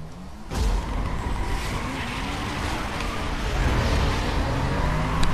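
A Porsche races through a speed trap in Need for Speed: Most Wanted, its engine roaring steadily with tire noise and skidding, loud and continuous from start to finish after a sudden onset.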